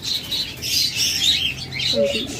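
Pied pigeons and doves kept in cages for sale give a low cooing near the end, layered under brighter chirping from other caged birds close by.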